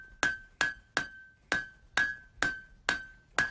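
A blacksmith hammers iron at a frontier fort, with eight sharp ringing strikes at a steady, slightly uneven pace. Each blow is loud and close, and its metallic ring fades before the next one lands.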